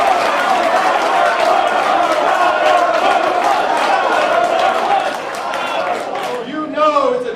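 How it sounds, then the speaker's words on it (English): Campaign rally crowd in Las Vegas cheering loudly and steadily, a dense roar of many voices that dips slightly near the end as one voice rises above it. "people are actually cheering PowerPoint"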